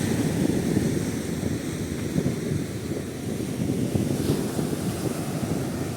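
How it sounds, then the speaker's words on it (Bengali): Steady roar of ocean surf breaking continuously at Thangassery Lighthouse beach, with wind buffeting the microphone throughout. "সমুদ্রের গর্জন ভালোই আছে"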